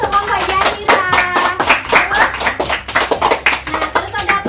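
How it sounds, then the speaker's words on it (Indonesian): A fifth-grade class claps for a student group, rhythmic loud hand claps repeating steadily with voices talking over them. "Saya tepuk tangan dulu"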